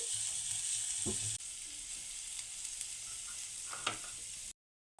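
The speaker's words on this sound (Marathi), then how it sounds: "इथे आता छान अशी हिरवी मिरची परतले गेलेली आहे याच्यामध्ये हळद टाकून घेऊया मिक्स करून घेऊया" Green chillies sauté in hot oil as turmeric is stirred in, producing a continuous bright sizzle. A few brief stirring scrapes sit on top before the sound cuts off abruptly near the end.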